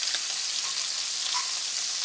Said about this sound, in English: Let's go ahead and turn our shrimp, which are cooking up quite nicely.